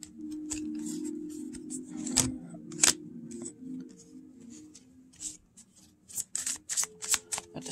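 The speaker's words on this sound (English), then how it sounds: "Just pull three cards for Chelsie Grimm." Tarot cards are shuffled and pulled close up: a brisk, papery riffling with sharp flicks and snaps that grows busier near the end, with no one talking.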